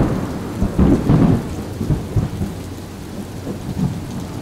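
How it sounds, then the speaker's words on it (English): Low, rumbling thunder rolls in bursts over a steady patter of rain, with the loudest swells early and quieter grumbles later. "So it's raining right now and I keep trying to record it."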